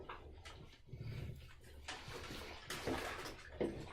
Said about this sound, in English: I'm gonna try and wash it over here a bit more so that you guys can see a bit better